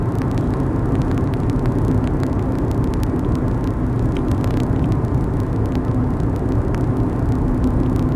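Volvo V40 2.0T car driving on a road, a steady, dense engine and road roar that holds evenly close by for the whole stretch, with no voices.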